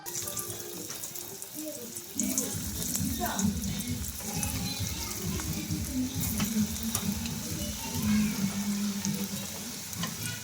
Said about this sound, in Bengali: এবার আমি এগুলোকে তেলে একটা একটা করে দিয়ে ভাজব